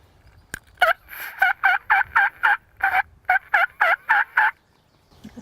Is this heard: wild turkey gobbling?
yes